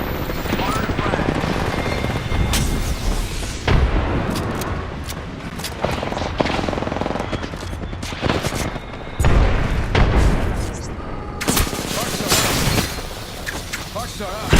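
Grenade blasts in the video game Apex Legends during a team deathmatch on Zeus Station, repeated booming explosions mixed with rapid gunfire and character voice lines throughout.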